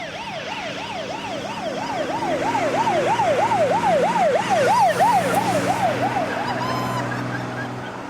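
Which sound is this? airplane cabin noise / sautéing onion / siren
siren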